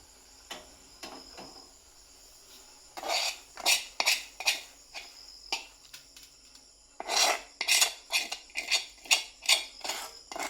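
Metal utensil scraping and clinking against a pan while Maggi noodles are transferred from a pan on a gas stove into a bowl: irregular rhythmic scrapes, sparse at first, then dense repeated strokes, fairly close.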